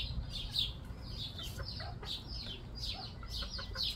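Chickens cluck and squawk in short repeated bursts, fairly faint, with a low rumbling background and no talking.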